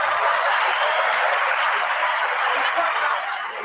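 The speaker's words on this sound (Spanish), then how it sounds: "Un aplauso ahí para ti." Dense applause sound effect played during a Spanish-language livestream, a steady wash of many hands clapping that holds at an even level for the whole stretch.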